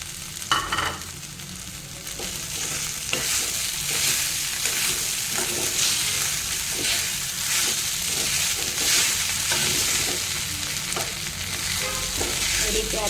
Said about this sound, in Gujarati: એ રીતે આપણે એને મિક્સ કરી લેવાનું ખીચડીને